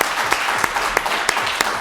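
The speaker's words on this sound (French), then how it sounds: "on vous applaudit bien fort" A radio show audience claps steadily, with several distinct louder claps punctuating the brisk, close applause.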